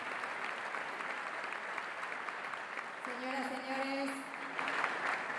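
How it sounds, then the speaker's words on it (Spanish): Audience applause for President Milei fills a hall at the Fundación Federalismo y Libertad event, steady and sustained, while an announcer's voice speaks over it. "agradecemos y despedimos con este fuerte aplauso"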